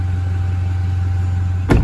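A Toyota Fortuner engine idles steadily after a snorkel fit, a constant low hum close by and alone, cut off near the end by a short burst of noise.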